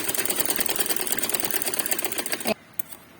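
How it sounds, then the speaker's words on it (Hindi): A sewing machine runs a half-inch seam on cloth for a small girl's frock, its rapid needle chatter steady and close for about two and a half seconds before stopping abruptly, followed by a couple of faint clicks. "कपड़ा अंदर करके आधा इंच सिलाई लगा रही हूँ।"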